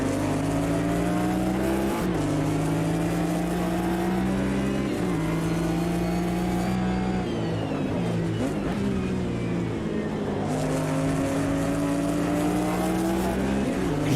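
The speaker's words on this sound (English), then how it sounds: "You almost can't hear your own car when you're up behind one of those Ginettas." Multiple Ginetta race cars roar in close formation in the Automobilista 2 racing game, loud harmonic engine notes stacking and shifting pitch as they accelerate and change gear, continuous and dense throughout.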